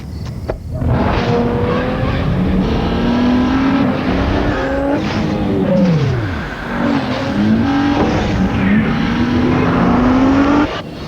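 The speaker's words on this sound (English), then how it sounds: "The 265 horsepower Nissan Maxima." A 265-horsepower Nissan Maxima roars through a TV commercial, its engine revving up and down with tire squeals and skids, loud and continuous with a pitch that sweeps and dips, and no speech over it.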